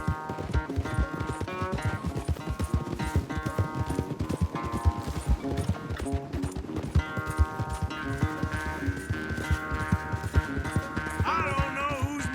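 Galloping horses pound out rapid, steady clip-clop hoofbeats during a race in Red Dead Redemption, layered under swelling orchestral game music throughout.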